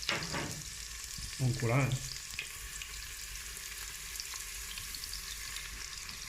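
Onions fry in a Cookeo multicooker for beef bourguignon, giving a steady close sizzle with a burst of stirring clatter early on and a brief spoken phrase.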